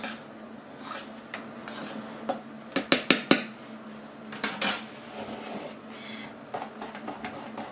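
Chocolate cake batter with baking soda being stirred in a bowl, close clinks and taps of a spoon against the bowl, with a quick cluster of knocks midway and softer scraping around it.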